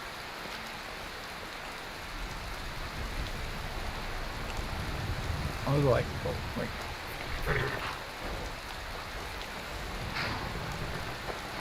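Steady rain falling in the video game Skyrim, a continuous soft hiss that runs through the whole stretch, with a few brief louder bumps and a voice speaking briefly over it.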